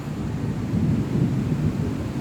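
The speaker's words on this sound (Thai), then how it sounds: "ตอนนี้คือฝนตก" Steady rain falling outside a seventh-floor room in Singapore, a constant, fairly loud hiss with a low rumbling undertone, heard alone without talk.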